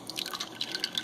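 Water drips and trickles steadily from a grain bag draining into a kettle during a home beer brew day, with light, irregular close drops over a soft liquid wash.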